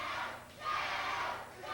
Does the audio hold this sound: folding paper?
no